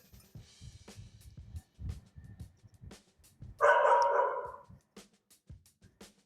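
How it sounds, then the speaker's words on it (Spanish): A dog in a workshop gives one short, loud burst of barking, rising above quieter clicks and mechanical taps from engine cylinder head restoration work. "Puto perro."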